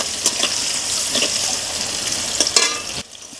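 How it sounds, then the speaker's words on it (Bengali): Thin-sliced bitter gourd sizzles in hot oil in a pan, seasoned with salt and turmeric; a loud, continuous frying hiss with stirring scrapes that cuts off near the end. "আমি উচ্ছে ভাজাগুলো সামান্য একটু নুন দিচ্ছি আর একটু হলদুও দিচ্ছি।"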